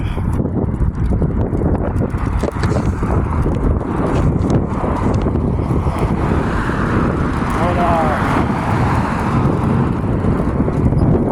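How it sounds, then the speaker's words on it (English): Cars passing on a busy city street in New Orleans, a continuous loud roar of traffic with rumbling engines and wind buffeting the microphone, heard up close. "Cars just keep coming."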